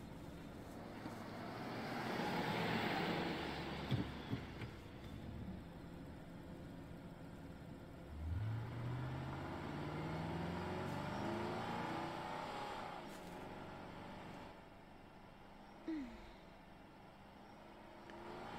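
A hotwired car in the Life is Strange 2 video game pulls away, its engine rising in pitch as it accelerates and then settling into a steady drive, loud and continuous with no talk over it.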